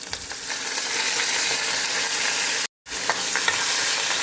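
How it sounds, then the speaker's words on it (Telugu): Mustard seeds, asafoetida and curry leaves sizzle and crackle in hot oil in a kadai, a dense, close frying hiss with small pops and stirring scrapes that drops out for a split second before resuming. "ఇది బాగా వేయించుకోవాలి."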